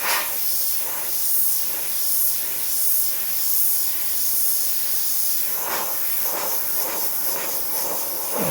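An airbrush sprays paint in a continuous, steady hiss, with a little overspray drifting onto yellow paintwork. A few soft clicks come near the end, and no voices are heard.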